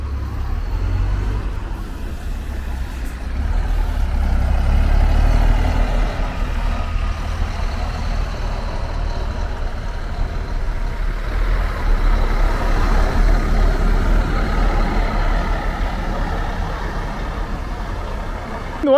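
A big Expresso União coach bound for Teófilo Otoni rumbles at the Tietê bus terminal parking lot in São Paulo, its deep diesel engine idling and swelling steadily, close and loud amid general yard noise.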